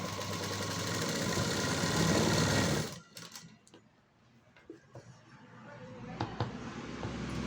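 A sewing machine stitches lining onto a blouse front, running in a steady close whir for about three seconds before stopping, followed by faint handling clicks and rustles.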